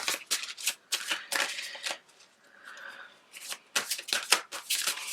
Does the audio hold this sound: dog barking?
no